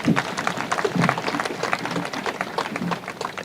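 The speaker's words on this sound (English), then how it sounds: "Please, let's give a better clap to our Chancellor." Applause for the Chancellor at a university graduation ceremony: a dense, steady clatter of many hands clapping together across the hall, moderately loud and continuous.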